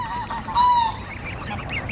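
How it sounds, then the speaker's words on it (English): Grey geese honking close by outdoors, a loud nasal honk rising over a steady chorus of softer goose calls, with no talking. "there's loads of geese"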